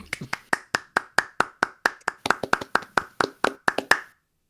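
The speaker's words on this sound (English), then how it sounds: "Hold for applause." About twenty separate, crisp hand claps ring out at an even, brisk pace, close and distinct with short gaps, then stop abruptly, like a small group or a single person clapping on a performance stage.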